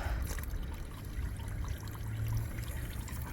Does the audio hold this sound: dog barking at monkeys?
no